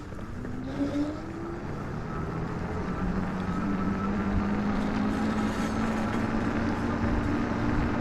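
Electric motor of a Puckipuppy Bulldog Pro full-suspension e-mountain bike climbing a hill on throttle alone, a steady whine rising in pitch over constant wind and tire rumble throughout.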